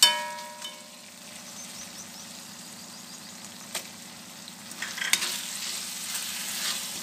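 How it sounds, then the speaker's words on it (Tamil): Onions sauté in a pan for elephant foot yam cutlets. A faint, soft sizzle is broken by a few sharp clinks and a brief clatter of stirring near the end, with no talk. "ஸோ வந்து நம்ம வதக்கும் போது நல்லா இந்த மாதிரி அடிப்பிடிக்காத மாதிரி நல்லா வதக்கிக்கோங்க."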